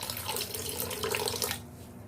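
Warm water pours steadily into a clogged bathroom sink drain during a drain-unclogging product test, a continuous running splash that cuts off abruptly near the end, leaving quiet.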